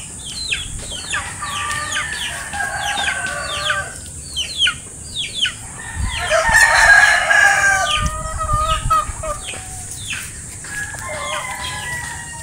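Chickens cluck and a rooster crows at a farm with a chicken house, the calls repeating steadily over twelve seconds at moderate distance, with one louder, closer burst of crowing midway.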